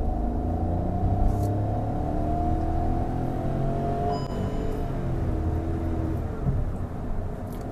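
Hyundai i20 N-line hatchback with a turbo petrol engine and dual exhaust, heard from inside as a steady low engine rumble that swells under acceleration, continuous throughout with no talking.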